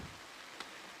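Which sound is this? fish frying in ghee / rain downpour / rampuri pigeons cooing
rain downpour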